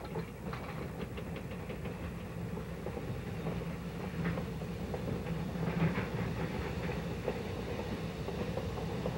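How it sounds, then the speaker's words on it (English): An ET&WNC Tweetsie narrow-gauge train heads back toward the depot, a faint, steady rolling rumble with scattered clanks and knocks throughout. "Then, the train is back toward the depot."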